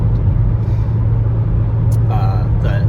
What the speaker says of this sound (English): It's just a pleasant hum of the engine kind of in the background.